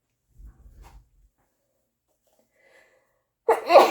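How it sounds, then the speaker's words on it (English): A few soft breathy sounds, a pause, then a sudden loud burst at the end like a sneeze, close and abrupt. "Oh, I'm still going to sneeze."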